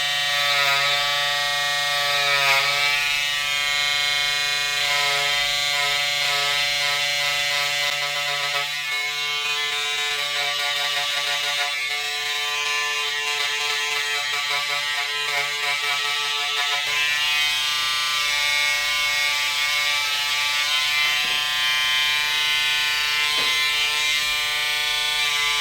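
Electric clippers run continuously while someone cuts their own hair, a steady close buzzing hum with strong harmonics that shifts slightly in pitch as the blade moves across the head, with no talking.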